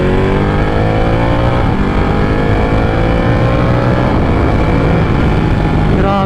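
A Ducati Panigale 1199 motorcycle engine runs at full power, a loud, dense high-revving roar with shifting harmonic tones that continues unbroken throughout.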